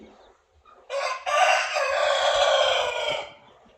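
A single loud crow from a fighting rooster of about five kilograms rings out close by, a long drawn-out call lasting a couple of seconds, with quiet background before it.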